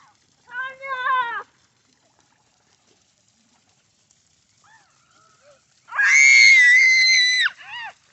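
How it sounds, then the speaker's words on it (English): A puppet character screams in two bursts, a short wavering cry followed after a pause by a longer, louder shriek, close and alone. "What are you screaming about,"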